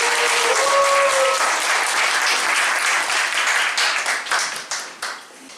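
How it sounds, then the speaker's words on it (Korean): Audience applause at a lecture on the new Cold War and the Korean Peninsula, welcoming the speaker. Dense clapping with a brief tonal hum near the start, steady at first, then breaking into scattered claps that fade out. "박수를 받아주십시오."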